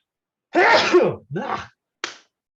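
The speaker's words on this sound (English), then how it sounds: "oh God, I'm gonna sneeze again" One loud, close sneeze followed by a second smaller burst and a short sniff or gasp, with silence around them.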